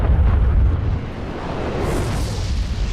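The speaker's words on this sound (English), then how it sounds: "He threw a grenade." A grenade explodes in the video game Destiny, a heavy low boom that rolls into a long rumbling, hissing decay, loud and with no speech.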